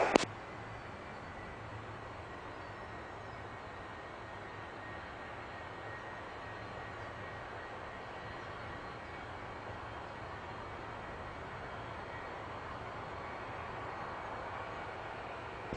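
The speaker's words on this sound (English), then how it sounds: "the left engine is still running, will be still running" A steady, droning aircraft engine, the left engine still running with fire vehicles approaching, runs continuously at a moderate distance, an unbroken broadband roar with no voices.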